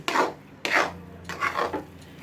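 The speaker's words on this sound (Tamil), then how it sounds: "இந்த மாதிரி நல்லா கரண்டியால் அப்படியே ஓரமாக கொண்டு வந்து நல்லா தேய்ச்சி விட்டு" A spoon scrapes and mashes sweet potato against the side of a pan on a low flame, with cardamom powder mixed in. Three close, rasping strokes come in steady succession, with no talk.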